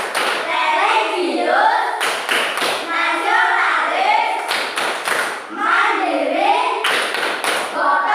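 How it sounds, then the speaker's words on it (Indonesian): A group of schoolchildren performs a morning tepuk PPK clapping routine, sharp synchronized claps landing in rhythmic clusters between their loud chanted words, close and energetic. "Sekarang kebiasaan pagi, tepuk PPK."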